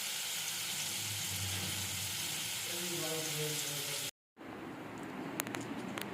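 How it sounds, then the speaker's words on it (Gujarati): Mustard seeds and fenugreek tempering in hot oil give a steady, fairly soft sizzle that cuts out briefly and returns with a few faint crackles. "રાઈ મેથીનો વઘાર કરીને"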